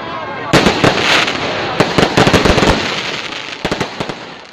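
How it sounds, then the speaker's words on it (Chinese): Fireworks bursting over a nighttime outdoor high school graduation ceremony, a dense run of sharp cracks and pops in rapid irregular clusters, loud and close, with crowd voices underneath. "绚烂的烟火在夜空绽放"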